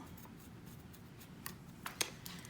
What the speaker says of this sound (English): Get my scissors. I'm going to cut it right where the airflow holes are.